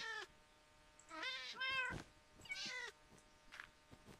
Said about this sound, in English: Hey kitty, move out of the way please.